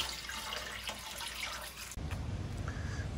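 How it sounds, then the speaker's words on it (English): Water is poured straight into a toilet bowl to flush it: close splashing and trickling, then an abrupt change to a lower, fuller rushing as the bowl drains. "you can just pour it right in the bowl. Let's flush it"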